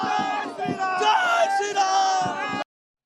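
A large crowd at a BJP political rally at Brigade Ground in Kolkata, heard as close, loud cheering, whooping and chanting voices that stop abruptly.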